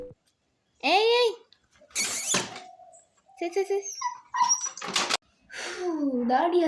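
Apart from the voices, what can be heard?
black dog whimpering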